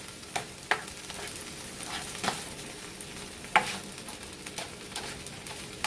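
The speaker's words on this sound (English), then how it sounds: "So I'm just going to saute this for a couple of minutes." Food sautés in a pan over medium-high heat, with a soft continuous sizzle and a few sharp stirring scrapes and clinks, quiet and close with no talking.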